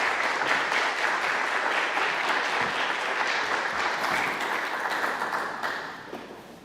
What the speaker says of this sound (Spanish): solo pedirles un aplauso de bienvenida para él